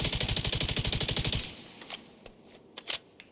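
Gunfire in the video game Division 2: a rapid, evenly spaced automatic burst lasting over a second, then a quieter stretch of a few separate mechanical reload clicks and clacks.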